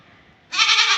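A goat being let out of its shed gives one loud, close, harsh bleat after a short quiet pause, with no talking over it.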